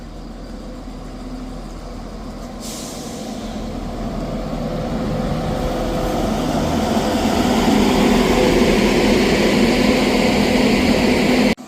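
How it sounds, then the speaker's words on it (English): A ScotRail service from Edinburgh Waverley to Perth pulls into Inverkeithing station, a broad rumbling roar that swells gradually from moderate to loud over about ten seconds before cutting off abruptly. "Arriving in now is the 12:58 Scotrail service from Edinburgh Waverley to Perth."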